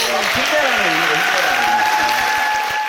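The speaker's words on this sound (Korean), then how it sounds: "여러분들 여기 어, 큰 박수 한번 부탁드릴게요" A studio audience claps loudly and steadily at a live variety show, a dense crowd ovation that runs throughout while a person speaks over it.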